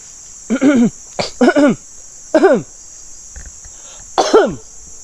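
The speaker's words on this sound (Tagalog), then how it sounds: "Inuubo pa ako guys" Several harsh coughs come in short bursts, close and loud, over a steady high-pitched insect drone in the background.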